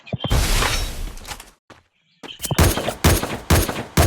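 Automatic gunfire in the Free Fire video game: loud, rapid bursts of shots crackle close up, break off into a brief near-silence, then return as several sharp, repeated volleys.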